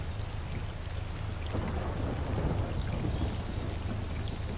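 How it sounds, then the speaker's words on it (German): Steady rain in Forza Horizon 4 patters into a roofless Ariel car over a low engine rumble, a constant wash of drops with no voices. "Hey, bei mir regnet sogar ins Auto rein."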